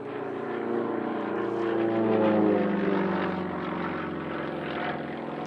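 A Sukhoi SU-31 aerobatic plane's propeller engine drones at a distance during an aerobatic maneuver, swelling louder in the middle and easing off again as the pitch shifts slightly.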